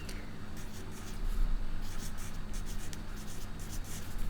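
A pen scratches steadily across paper, a close, continuous stroking with brief lifts and renewed strokes throughout.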